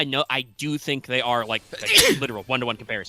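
A single sharp sneeze near the middle, close and loud, set within steady conversational speech before and after.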